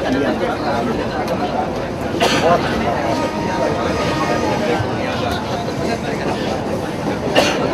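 A train rumbles steadily on the Tanah Abang–Serpong double-track line in Indonesia during a trial run, with the rattle of rail cars, while people's voices murmur faintly in the background.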